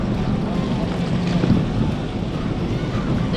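A low boat engine rumble mixed with blustery wind noise and water wash, steady and close, like a charter boat motoring on open sea near an island with no docks.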